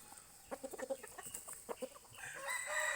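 A fighting rooster gives a burst of short clucks and cackles, fairly close, followed by a rising crow-like call.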